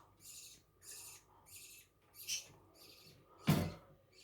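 Jumbo budgerigars chirp in a run of quick, bright bursts at a fairly even pace, one call near the end louder and harsher than the rest, with no talking.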